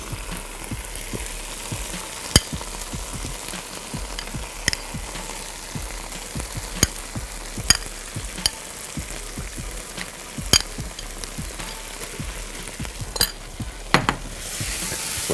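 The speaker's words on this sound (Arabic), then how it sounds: "وهنزل باللحمه بتاعتي على طول." Meat sizzles and fries loudly in a hot pan for the whole stretch, broken by sharp clicks and scrapes as it is stirred.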